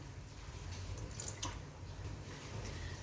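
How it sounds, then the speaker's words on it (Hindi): Water is added to a blender jug set on its base, roughly half a cup for a mint lemonade, giving a short, faint trickle and splash that peaks briefly midway, with no talking. "अब ब्लेंडर जग को हमने मशीन पर रखा है और इसमें तकरीबन हमने हाफ़ कप पानी ऐड करना है।"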